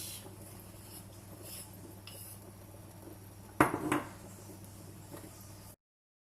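Chocolate fondant batter is stirred in a bowl with a utensil: a soft, steady scraping texture, then one sharp clatter of metal against the bowl midway, all fairly quiet and with no talking.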